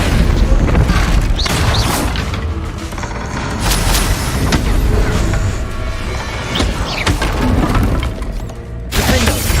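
Combat spells Expelliarmus and Protego in Hogwarts Legacy, a dense run of loud booms, shattering cracks and crackling magical bursts, continuous and close with no talk.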